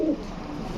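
A large, pure white fancy pigeon gives a short, close, low cooing call at the very start of a brief stretch, followed by quiet background.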